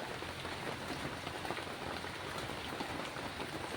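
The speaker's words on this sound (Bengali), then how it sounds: "এই যে দেখো কি হারে বৃষ্টি আমাদের এখানে" Heavy monsoon rain pours down in a dense, even roar of drops hitting surfaces, steady and unbroken, with no talk.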